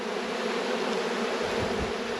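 Honeybees buzzing steadily at an opened hive during a late-season winter-prep inspection after smoking, a dense, continuous close hum with no talking.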